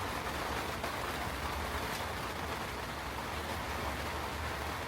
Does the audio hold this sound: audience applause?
no